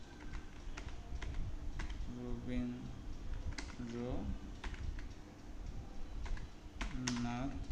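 Rapid clicking keystrokes on a computer keyboard as a ChatGPT prompt is typed, a steady close patter of taps with brief pauses, while a voice talks over it.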